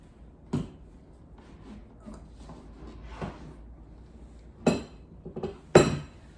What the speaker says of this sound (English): So I'm going to give that a stir